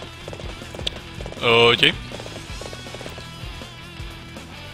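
Galloping horse hooves in the video game Dynasty Warriors 7, a rhythmic clip-clop of hoofbeats with a short spoken word and a brief loud burst partway through.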